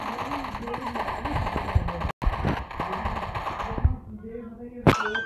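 Rapid bursts of automatic gunfire in a PUBG Lite team deathmatch, sharp cracks in quick clusters with a brief gap, then a final loud shot after the firing trails off.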